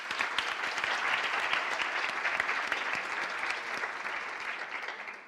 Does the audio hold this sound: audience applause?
yes